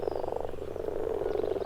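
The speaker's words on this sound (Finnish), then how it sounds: "Ruskosammakon tuntee kurnutusäänestään, joka tässä taustalla kaiken aikaa kuuluukin." A chorus of common frogs croaks steadily at a spawning pond, a dense, continuous purring rattle of overlapping calls with no pauses, close and moderately loud.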